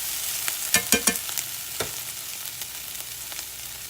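Onions cook in oil in a skillet for a one-pot beef and potato meal, with a continuous sizzle broken by several sharp utensil clinks and stirring scrapes early on.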